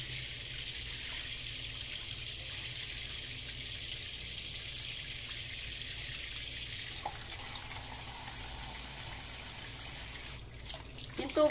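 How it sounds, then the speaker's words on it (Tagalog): Water is poured into a pot of pork, a soft continuous trickle with faint kitchen noise around it, ending in a few louder clanks near the close. "Lagyan lang natin tubig."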